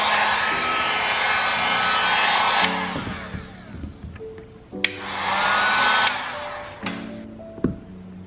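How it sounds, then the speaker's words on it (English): A heat gun warms XPEL paint protection film on a BMW M3 before peeling, blowing a loud, close, steady whoosh in two long bursts with brief pauses and small clicks between them, no talk. "I don't really even probably need the heat gun, but it just makes it a little bit easier."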